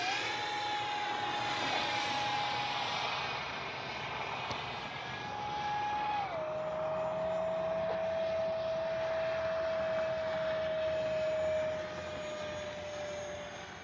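A T-33 radio-controlled model jet with a 50 mm electric ducted fan flies at an RC airfield, a steady loud whine sweeping in pitch as it passes close and away, sustained throughout with no talking.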